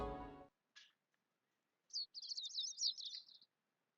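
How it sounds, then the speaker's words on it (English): Birds chirp in the video game Code: Realize, a quick rapid twittering call after a short burst of another sound and a near-silent gap, clear and fairly soft against a quiet background. "The sound of birds chirping slowly raises me from my dream into consciousness."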